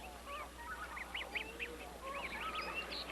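Wild geese give a flurry of nasal honks and chattering calls, several birds overlapping at a moderate distance over steady background noise.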